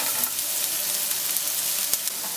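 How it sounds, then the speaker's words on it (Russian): Chopped onion and carrot sizzle in vegetable oil in a frying pan, a steady, close crackle with small pops as the vegetables are stirred. "И вот помешивая, обжариваем наши овощи, пока лук не станет прозрачным."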